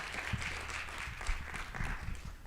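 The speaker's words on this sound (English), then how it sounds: "Let's give Noura one more round of applause." An audience claps steadily at a science speaker series talk, a sustained round of applause that holds even throughout.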